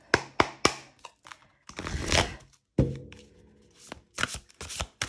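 Tarot cards being shuffled by hand, a run of quick papery riffles and taps in bursts with brief pauses, close and fairly crisp, no talking.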